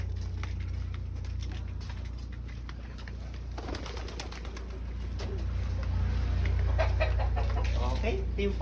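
Birds coo and cluck continuously in a flight cage, with pigeons or doves prominent over a low steady hum. A voice speaks briefly in the background.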